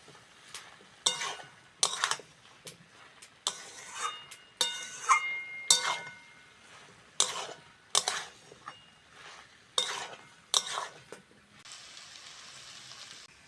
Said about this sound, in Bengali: এবার ভালো করে শুকনো শুকনো করে কষে নেব